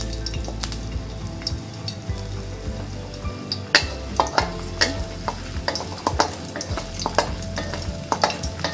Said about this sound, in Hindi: अब मैं इसमें ये स्लाइस की हुई जिंजर ये ऐड कर दूँगी।